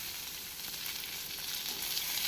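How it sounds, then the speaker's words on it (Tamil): Curry leaves and chopped green chilies frying in hot oil while tempering for a traditional Tamil garlic gravy, giving a steady, bright, close sizzle that runs the whole time with no talking. "கறிவேப்பிலையை போட்டு இதனுடனே நாம் நறுக்கிய பச்சை மிளகாயும் போட்டுக்கொள்ளலாம்."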